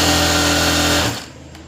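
An electric sewing machine stitches a skirt hem in a square pattern, its loud, close motor hum running steadily for about a second before cutting off abruptly into quiet.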